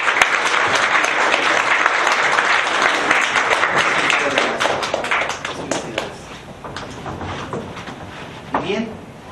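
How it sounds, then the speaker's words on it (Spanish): Conference audience at an economics school applauding loudly with many distinct sharp claps, the clapping gradually thinning toward the end as a voice starts speaking over it. "Un aplauso a la maestra."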